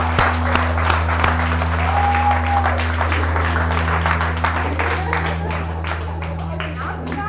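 Crowd applause at a live mentalist show, clapping building and then thinning into scattered claps under a low steady hum, with some voices mixed in.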